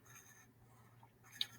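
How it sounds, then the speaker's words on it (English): Pen or pencil strokes scratch faintly on a blank sheet of paper while boxes are drawn, a few soft marks in a quiet room. "you can just draw boxes right on a blank piece of paper"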